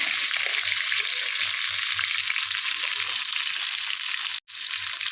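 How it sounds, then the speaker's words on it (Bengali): Fish pieces sizzle steadily in hot oil during frying with gati kochu, a dense, even crackle throughout, broken by a brief gap near the end. "এইভাবে ভেজে আমি এক এক করে তুলে নিচ্ছি মাছগুলোকে।"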